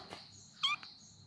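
A small kitten, newly arrived and a little frightened, gives a single short, faint meow in a quiet room, with soft background noise around it.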